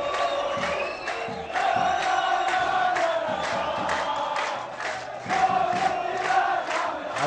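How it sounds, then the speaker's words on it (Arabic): A football crowd cheers and chants throughout a Tunisian league match between Mustaqbal Marsa and Ittihad Tataouine at Najib Khattab stadium. The roar is loud and continuous, with rhythmic clapping and chant surges swelling near the middle and end. "الجماهير ما زالت تشجع فريقها لآخر رمق هنا في ملعب نجيب الخطاب"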